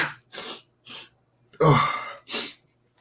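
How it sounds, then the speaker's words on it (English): A person sneezes once loudly and close, preceded by a few sharp breathy intakes and followed by a short exhale, in a quiet indoor setting. "I'm going to sneeze anyway."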